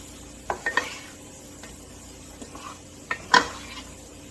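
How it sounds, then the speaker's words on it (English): Garlic and onions being stirred in a pan, with a few light scraping clicks of a utensil against the pan over a soft, steady background hiss, sparse and close. "we'll go ahead and start moving it around, mixing it in with the onions"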